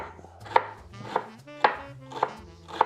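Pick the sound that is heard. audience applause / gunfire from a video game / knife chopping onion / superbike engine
knife chopping onion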